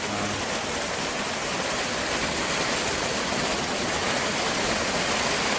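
Heavy rain shower pours down steadily at a mountain campground, car camping, in a dense, unbroken hiss with no gaps, loud and close throughout.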